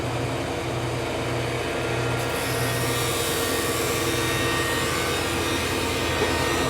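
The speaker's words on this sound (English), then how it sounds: "We're basically skip planing this." A thickness planer skip-planes wooden boards with a loud, continuous mechanical roar and steady grinding hum, close by and unbroken throughout.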